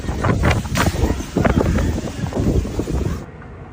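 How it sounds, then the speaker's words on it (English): Strong wind buffets the microphone in heavy, irregular gusts, a loud roaring rush that surges and fades for a few seconds before cutting off. "wind gusts reached level 12 on the Beaufort scale, indicating extremely dangerous conditions"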